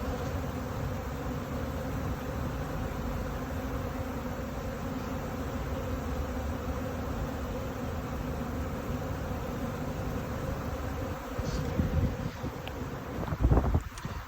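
A steady, dense hum of many honey bees buzzing continuously around hives outdoors in California, with light wind rumble and a few louder passes near the end.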